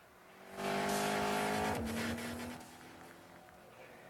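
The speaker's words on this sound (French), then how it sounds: "Vous avez entendu le son du moteur?" A car engine in a mobile driving game roars loudly with a rising rev and a brief tire squeal, then fades to a quieter hum.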